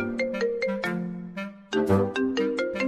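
A telephone rings with a bright electronic ringtone, repeating melodic tones in a quick steady pattern, loud and close with no talking.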